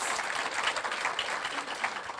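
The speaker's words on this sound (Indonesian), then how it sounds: "Tepuk tangan buat Tuhan Yesus" A church congregation bursts into applause for Jesus during a sermon, a steady, dense wash of many hands clapping at moderate distance with no voices standing out.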